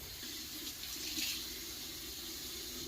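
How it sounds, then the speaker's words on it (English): Cilantro rinsed under running tap water at an open-air cooking setup, a steady close hiss of water splashing over the leaves, continuous and fairly soft. "I got lots of cilantro. I'm just gonna rinse it off."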